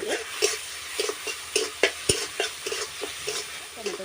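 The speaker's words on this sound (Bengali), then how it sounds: "ভেজে নিতে হবে যাতে কাঁচা গন্ধটা না থাকে" Ground mustard paste frying and being stirred in a pan, a close, soft sizzle broken by repeated scrapes and taps of the spoon against the pan at a steady, irregular rhythm.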